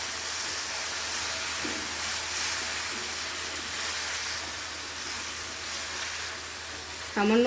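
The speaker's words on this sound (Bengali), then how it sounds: "এবারে গ্যাসের ফ্লেমটাকে লোতে করে ঢাকনা চাপা দিয়ে রান্নাটা করে নেব" Okra and potato cooking with a little water in a covered pan over a low gas flame, a soft continuous hiss and faint bubbling, steady and fairly quiet, with a brief clatter at the end.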